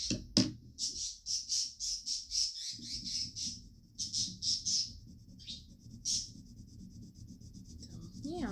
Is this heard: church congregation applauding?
no